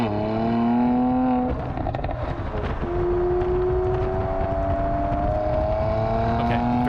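A 2019 Mercedes-AMG C43 in sport mode revs loudly and close by. The engine note dips briefly, then climbs in a long, steady pull under light wind buffeting.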